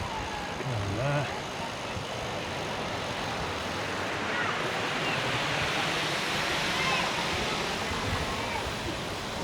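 River flowing in Carlisle, a steady broad rush of water near a popular swimming and paddling spot, loud and continuous, with a voice heard briefly.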